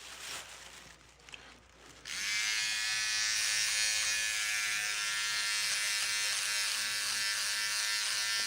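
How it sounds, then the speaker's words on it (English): Small electric hair clippers switch on after a couple of seconds of quiet rustling and then buzz steadily and loudly up close for the rest of the stretch, a constant high motor whine with no talk. "But these are little clippers I get."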